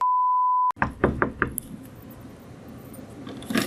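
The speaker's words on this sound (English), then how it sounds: "Knock, knock" Four sharp knocks on a door in quick succession, loud and close, following a steady test tone and leading into a busy room with background murmur.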